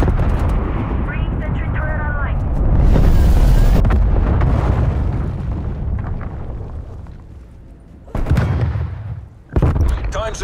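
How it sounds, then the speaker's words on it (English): Heavy artillery strikes in Call of Duty Black Ops Cold War roll in as continuous rumbling blasts and booms, loud and dense, with in-game voices speaking over the battle noise. "Artillery targeting detected. Artillery inbound."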